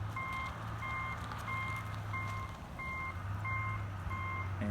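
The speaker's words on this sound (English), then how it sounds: "Here comes Miss Roussell, parking her car for this experiment" A car reverses into a parking spot with a regular series of evenly spaced electronic reversing beeps over a steady low engine rumble.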